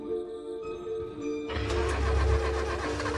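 A motorbike engine that won't start: a steady tonal hum, then a loud, rough mechanical churning that bursts in and continues without settling into a clean idle.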